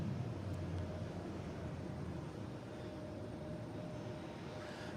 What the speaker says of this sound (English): All right, clear for takeoff. Getting out of here.